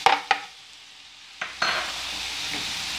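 Steak hitting a hot pan on a gas hob for a quick fry: a few sharp clatters, then a steady hiss of sizzling fat that carries on evenly, close and moderately loud with no talk.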